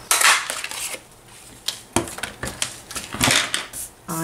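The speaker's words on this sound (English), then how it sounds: "Punch, a 1 3/4 inch circle punch." A 1 3/4 inch circle punch cuts through Gorgeous Grape cardstock with several sharp, close clicks and clunks, separated by short pauses and light handling noise.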